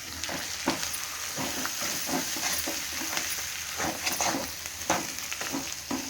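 Pepper chicken with garlic sizzles and fries in a pan as it is stirred after coriander goes in, steady close hiss with repeated scraping stir strokes, no talking.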